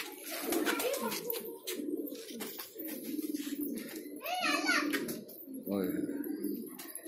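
An old pigeon of a traditional breed in Bhopal coos in soft, repeated throaty rolls, close by, while someone talks over it throughout.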